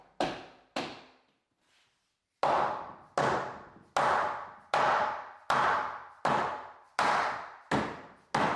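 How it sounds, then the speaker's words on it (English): Hammer strikes on a wooden entertainment center being knocked into place, about ten sharp, ringing blows close by, two quick ones, a short pause, then a steady run of evenly spaced hits with no talk. "I took the hammer and went hammered in place the way you're supposed to do it"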